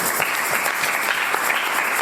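A church congregation claps together in praise, a dense, steady burst of applause filling the room at even loudness, with no voices heard.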